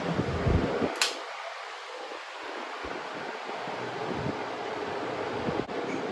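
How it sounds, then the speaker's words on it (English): A 1950s Limit 16-inch desk fan runs steadily on medium speed, giving a close, continuous broadband whoosh of moving air with a brief click near the start. "For noise level, the limit 16-inch is louder on medium"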